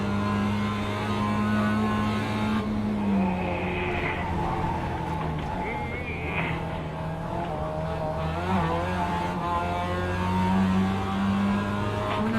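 Race cars in a racing video game drone and whine through steady engine tones that rise and fall with gear changes, with other cars faintly audible nearby and no talk.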